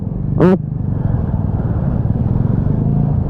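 Motorcycle engine droning steadily up close on a dusty dirt road, with a rough low rumble throughout and a brief high squeal just before half a second.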